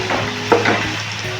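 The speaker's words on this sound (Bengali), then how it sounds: "এবার সবটা একটু ভালো করে ভেজে নিয়ে" Tomato chutney fries in a pan with a close, steady sizzle, broken by a couple of short stirring scrapes.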